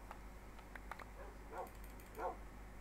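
Tamed dogs in a survival video game give a few short, faint barks and yips over a steady low game hum, scattered through the stretch with two slightly louder bursts near the end.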